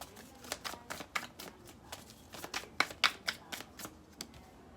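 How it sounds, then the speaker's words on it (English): Tarot cards being shuffled by hand, a string of soft, papery riffles and snaps in uneven bursts, close and fairly quiet, with no speech over them. "Let me shuffle these up."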